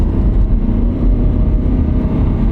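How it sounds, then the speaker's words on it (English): A car with a 2.4-liter four-cylinder engine and 174,000 miles accelerates on a road, its loud, steady engine drone close and continuous throughout. "Step on the gas."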